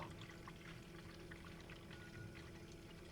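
Coolant pours and gurgles steadily out of a flood-submerged Maserati while its water pump runs after a Florida hurricane, a faint continuous stream with no talking.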